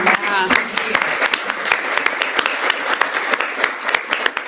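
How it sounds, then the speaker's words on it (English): An audience claps together in a short burst of applause at an event, with steady, dense hand claps that stay loud across the whole moment. "That deserves a round of applause."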